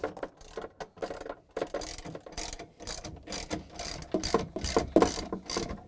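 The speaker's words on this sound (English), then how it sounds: "now I'm going to secure it with the 10 millimeter bolts." A ratchet tightening 10 millimeter bolts on a Samsung icemaker assembly, with close, steady bursts of fast clicking pawl strokes repeating throughout.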